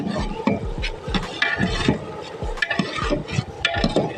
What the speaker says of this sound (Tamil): நந்தி தேவர் சாம்பாருக்கான வெங்காயம் தக்காளி எல்லாம் வதங்குது